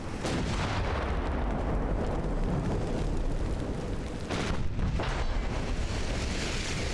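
A naval cannon salvo in Ultimate Admiral: Dreadnoughts, with the casemate ironclad CSS Virginia in action, makes dense, heavy rumbling booms that roll on with several louder bursts near the end, loud and continuous with no talk.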